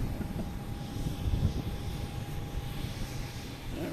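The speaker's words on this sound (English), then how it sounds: "we got a JetBlue being brought somewhere. Oh, it's coming in here." JetBlue airliner coming in to land at Boston Logan Airport by the harbor, a steady, faint engine rumble under outdoor wind with no talking.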